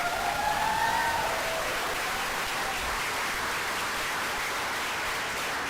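Sustained audience applause at a service dog team training graduation for the Northeast Region, a dense, steady wash of clapping filling the hall with a few faint tonal tones drifting over it early on.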